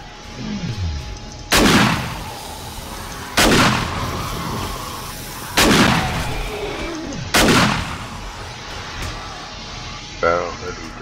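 Gunfire during a horde night in the video game 7 Days to Die, four loud booming shots spaced about two seconds apart, each with a rumbling tail, and a voice talks briefly near the end.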